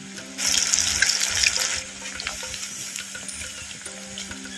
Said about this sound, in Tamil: அப்படியே எண்ணெயில் வேகட்டும்